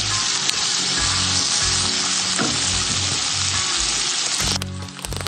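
Cumin seeds sizzle and crackle loudly in hot oil in a pan, a constant close frying hiss that suddenly thins out near the end.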